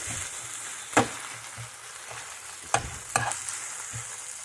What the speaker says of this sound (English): Saute that down and around. Break up the spinach as much as you can.